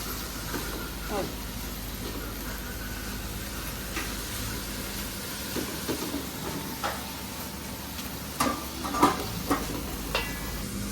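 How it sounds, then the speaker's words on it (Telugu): Masala for chicken pulav roasts in a pan at home, a soft continuous sizzle with occasional stirring scrapes and clatters, a voice talking over it. "ఇది బాగా పచ్చి వాసన పోయేదాకా మనం బాగా రోస్ట్ చేసుకోవాలి"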